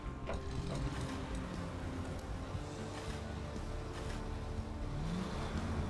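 Truck engine in the video game SnowRunner revving and straining, a continuous low rumbling drone with shifting pitch, fairly quiet and heard without talk.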